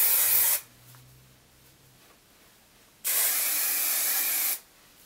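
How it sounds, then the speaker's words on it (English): Two bursts of Aussie hairspray hiss close up onto hair, a short one then a longer steady one, separated by a quiet pause. "now I'm just going to spray it with a bunch of hairspray"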